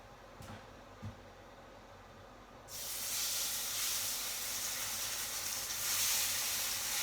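Wild salmon fillets go skin-down into a smoking-hot oiled pan, starting a sudden loud sizzle after a couple of soft clunks. The hissing spray keeps up strongly to the end.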